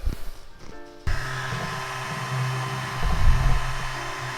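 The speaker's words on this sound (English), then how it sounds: "So we're gonna heat shrink that down" A heat gun on low heat shrinks tubing over Honda Rebel motorcycle wiring during a fog lamp install, switching on after a second of handling noise into a steady close-up roaring hum with a faint tonal whine.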